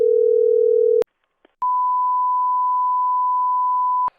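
A telephone line, dialed to reach a coin shop, gives a loud steady low tone that cuts off, followed by a brief pause with a click and then a longer, higher continuous tone that ends abruptly.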